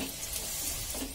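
Alu vadi pieces fry in hot oil over a medium flame, giving a quiet, steady hiss of sizzling that stays even throughout.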